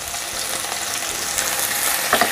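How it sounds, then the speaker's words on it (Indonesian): Thinly sliced garlic sautés in a pan of oil, giving a dense, continuous hiss and crackle up close, with a few louder spatters near the end. No one speaks. "Saya tumis dulu bawang putih yang sudah diiris tipis."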